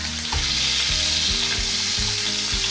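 Veal shank for osso buco browning in a hot pan, giving a steady loud sizzle and crackle throughout, with occasional low thumps and scrapes, close up and without talk.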